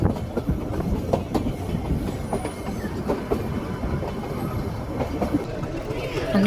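Nilgiri mountain toy train running from Ooty toward Coonoor, a steady rumble with rhythmic wheel clatter heard from on board, continuous and moderately loud with no clear talking.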